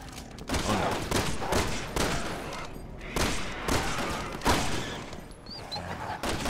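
Rapid gunfire from the video game Resident Evil 6, Leon's campaign, with dense, loud bursts of shots repeating through the whole stretch and a few brief pauses.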